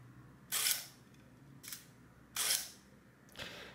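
Konica Auto SE camera's integrated spring motor advancing film, heard as four short whirring bursts, two louder and two briefer, each a sharp mechanical buzz separated by quiet pauses, close and distinct.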